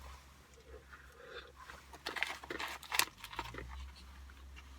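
Close, crisp crunching of dry roasted peanuts being chewed, irregular bites growing louder midway, with no talking.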